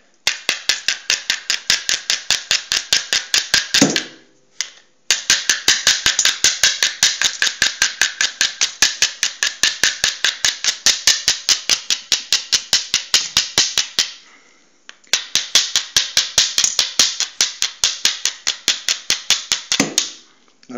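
Flint struck against marcasite to raise sparks for lighting a fire, giving rapid, sharp, evenly spaced clicking strikes in three long runs with short pauses between, loud and close.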